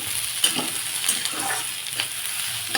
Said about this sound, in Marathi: थोडेसे कांदे मी थोडेसे जास्तच फ्राय करून घेते